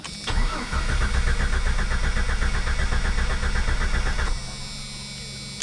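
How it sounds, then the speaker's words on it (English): A 1995 Jeep Cherokee XJ engine cranks over with an even, rhythmic chug for about four seconds, loud and close. It then drops to a quieter, steady hum. "you'll hear this whenever I spin it over because all the cranks are nice and even"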